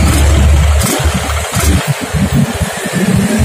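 Honda Beat motorcycle engine with a fault that makes it sputter when throttled, a loud steady running note that breaks after a second into choppy, stuttering bursts, close by and without talking.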